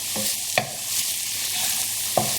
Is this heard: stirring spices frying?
yes